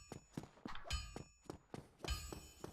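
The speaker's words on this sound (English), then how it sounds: "As you can hear, there's an anvil going." Hammer strikes ring out on an anvil in the video game Dark Souls Remastered, a series of sharp metallic clanks at an uneven rhythm, some heavier with a resonant ring, fairly faint and with no talking.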